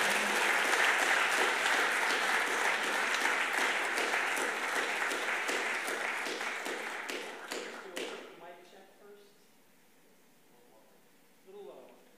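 An audience at an astronaut panel on living and working in space claps to welcome astronaut Rex Walheim: dense, loud, sustained applause for about eight seconds, then tapering off into a quiet room with faint voices and shuffling.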